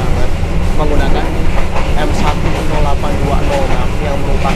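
The KA Gumaran passenger train runs on its rails, giving a loud, steady rolling rumble with rhythmic clicking from the wheels that carries on without a break.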